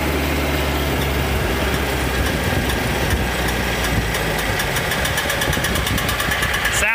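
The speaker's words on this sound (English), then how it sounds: "as soon as I idle down, you'll start to hear a clicking" An idling tractor hums steadily and close, and as the engine settles a fast, regular clicking from the overriding clutch of a Tar River drum mower rises above the engine noise.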